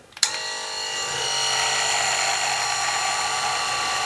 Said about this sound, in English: let's just go ahead and get this trimmer rocking here